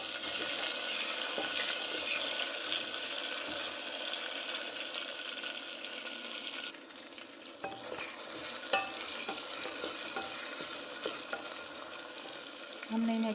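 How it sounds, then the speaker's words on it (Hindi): Chicken liver masala frying with tomatoes and green chillies, a steady close sizzle with spoon stirring and scraping throughout, briefly quieter midway before the frying hiss returns. "इसको हम अच्छे से भून लेंगे।"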